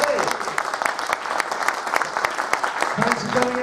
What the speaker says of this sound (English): Another round of applause, please, everybody, for the amazing Jim Bagley.